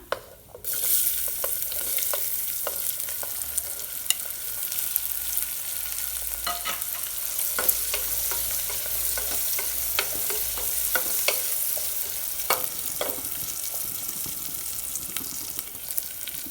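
Shallots are frying in hot oil with garam masala for a green chilli mutton curry. A steady sizzle runs throughout, and sharp scrapes and clinks from stirring in the pan break in now and then. No one speaks.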